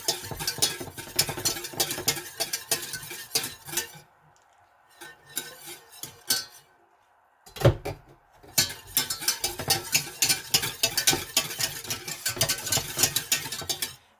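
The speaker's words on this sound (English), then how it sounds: "You just keep stirring until the gelatin is dissolved." A spoon stirs gelatin into milk in a pot for panna cotta, making rapid rhythmic scraping and clinking. It pauses briefly twice, then resumes with steady, fairly close clatter.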